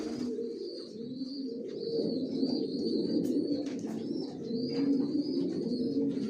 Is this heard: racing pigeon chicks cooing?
yes